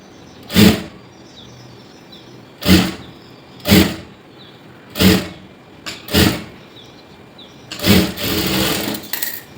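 Sewing machine stitching a blouse seam in short separate bursts, about six runs spaced a second or two apart, close and fairly loud, with the last burst running longer.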